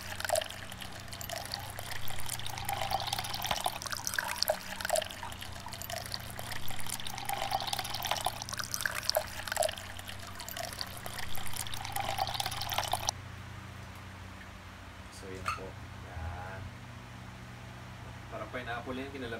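A pineapple basil martini cocktail being double strained, with liquid trickling and splashing steadily through the strainer before quieter drips and small clinks, under talk.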